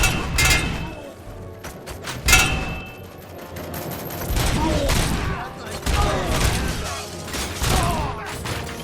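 Rapid gunfire and bursts crackle through a RoboCop: Rogue City firefight, dense repeated shots with thumps and mechanical clatter, loud and continuous, with voices shouting in the mix.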